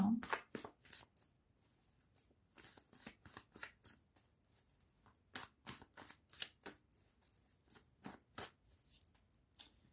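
Tarot cards being shuffled by hand, a quick run of crisp, dry riffling clicks and flicks repeating close up throughout, with no talk over them.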